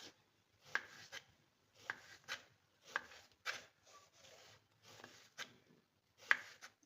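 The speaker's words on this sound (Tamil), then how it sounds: "இது அப்படியே ரவுண்ட் ரவுண்டா அப்படியே அழகா கட் பண்ணிக்கிறோம்." Peeled ridge gourd cut into round slices with a knife on a board, a quiet series of evenly spaced crisp chops, close and alone.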